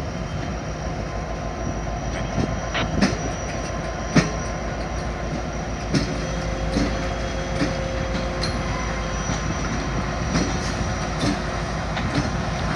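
A Norfolk Southern track geometry train reverses slowly into a rail yard, its wheels and cars giving a continuous rumble with scattered clicks, clanks and faint squeals close by, and no voices.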